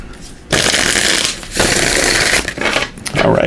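Tarot cards riffle-shuffled close up in several quick bursts, each a crisp rapid flutter, separated by short pauses.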